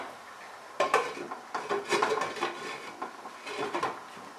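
A metal lid clatters onto a pot of cauliflower curry simmering on a gas stove, giving several close clanks and scrapes against a quiet background.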